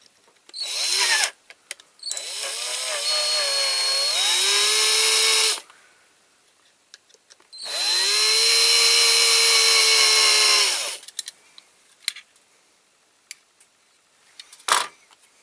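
A power drill bores out a squashed rivet on a restored Corgi Toys Ford Consul Classic die-cast car, two long loud whining bursts with a short blip before, then quiet clicks and handling sounds.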